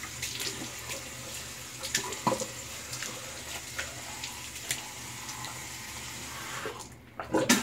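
Water running from a tap as a shaving alum block is rinsed beneath it, a steady close splashing flow with a few brief knocks, cutting off near the end.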